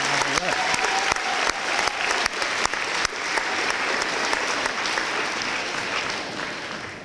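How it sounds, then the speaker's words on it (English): Parents at an 8th grade graduation celebration give the graduates a sustained round of applause, dense crowd clapping filling the hall for several seconds with a few sharp claps standing out near the front. "So parents, please join me in a round of applause for our graduates."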